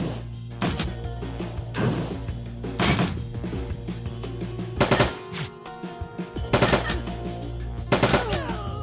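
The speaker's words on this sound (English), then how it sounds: "turrets can do all my dirty work" Turrets fire in the PC video game Shadowrun: Dragonfall, loud bursts of automatic gunfire arriving in irregular volleys with sharp impacts and short gaps between them.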